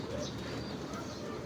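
Pigeons in a fancier's loft give low, soft, continuous cooing against a dense background murmur.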